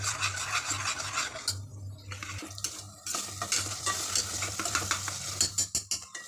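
Chicken is stirred and fried in a pan, with a constant sizzle under repeated scraping strokes of a utensil that quicken toward the end; no one speaks.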